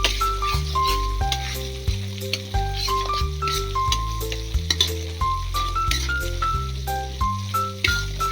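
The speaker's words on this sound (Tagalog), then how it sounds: "Tapos ay hinalo-halo ko lang ulit ito para magalo-halo ang sangkap." Tofu sisig ingredients are stirred in a hot pan, a steady sizzle with repeated scraping strokes of the spoon running throughout, close and fairly loud beneath background music.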